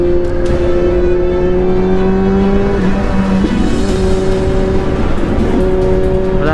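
A big motorbike, a Kawasaki Z H2 or ZX-10R, rides through traffic, its engine holding a steady, close, droning hum over constant road and wind rush for the whole stretch, with slight shifts in pitch.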